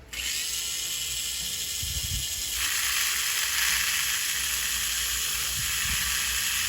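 Small Tamiya Mini 4WD electric motor spinning steadily on a speed checker, a continuous high whine that shifts pitch partway through, running alone without talk.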